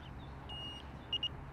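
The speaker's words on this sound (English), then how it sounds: "a single button that you push, and it beeps its way into life" Several short electronic beeps from a CaddyTrek R2 electric golf caddy powering on, a long tone then two quick chirps, over a low steady hum in a quiet space.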